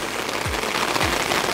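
Rain falls steadily at Synevyr Lake during a fishing trip, a dense, even hiss of drops with a couple of low thumps underneath and no voices.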